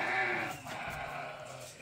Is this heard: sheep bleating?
yes